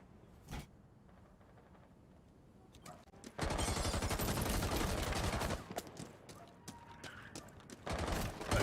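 Gunfire in Rainbow Six Siege: a single sharp shot early, then a sustained rapid automatic burst for about two seconds, followed by scattered shots and another burst near the end, with a commentator's voice faintly underneath.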